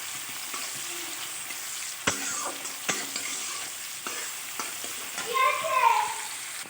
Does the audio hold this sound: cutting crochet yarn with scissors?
no